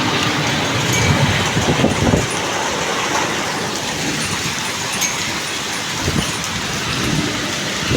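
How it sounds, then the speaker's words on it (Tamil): Steady, dense patter of hail hitting surfaces and water, a continuous broadband hiss with a few louder bursts, no voices. "இங்கே அந்த விழுகுது பாருங்கள் பனிக்கட்டி மலை ஆலங்கட்டி மலை"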